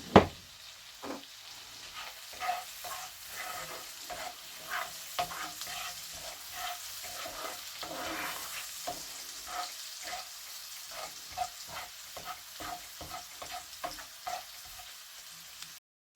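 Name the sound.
onions frying in a pan for sage and onion stuffing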